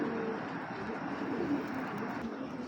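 A pair of Tiger Grizzle Marshal racing pigeons coos amid a dense, continuous murmur of birds close by, the sound even and unbroken throughout.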